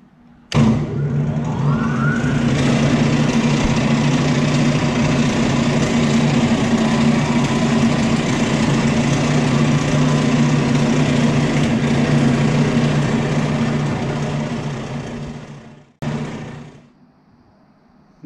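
A Contec CT320 concrete shaver and scarifier motor kicks on with a rising whine, then runs as a loud, steady drone for about fifteen seconds before cutting off abruptly.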